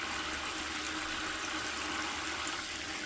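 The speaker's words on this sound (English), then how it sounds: "water falling is very, very satisfying noise" Water pours steadily while a washing machine detergent drawer is cleaned, a constant soft splashing hiss, close and fairly quiet, with no talking.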